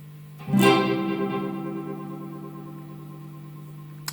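A single guitar note rings out through an Echolette NG 51 tube tape echo with all three playback heads on, its repeats smearing into a warm, slowly fading wash of overlapping delays.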